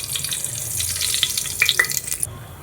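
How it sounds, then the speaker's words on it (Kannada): Mustard seeds crackle and sizzle in hot oil in a pan, a steady hiss with scattered sharp pops that grow busier toward the end, close by and with no voices. "ನಾನು ಸ್ವಲ್ಪ ಸಾಸಿವೆ ಹಾಕ್ಕೊತಾ ಇದ್ದೀನಿ"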